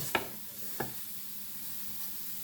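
Unmarinated pork belly sizzling on a small electric grill, with a soft continuous crackle broken by two sharp pops close by early on and a fainter one later.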